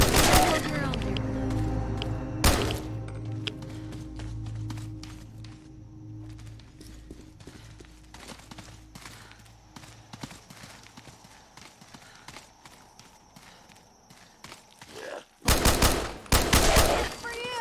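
Bursts of rifle fire ring out in Fallout 4 Far Harbor, loud shots at the start and end with scattered sharp impacts and clattering game sounds between, a voice talking at times.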